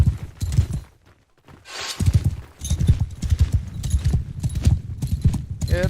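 Horses gallop in a video game battle charge, a dense, loud clip-clop of many hooves with an occasional whinny, continuing under a voice after a brief lull.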